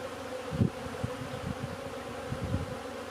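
Honeybee colony with a Buckfast queen humming on a hive frame in December, a steady close buzz with a few louder individual bees passing near, alone without talk.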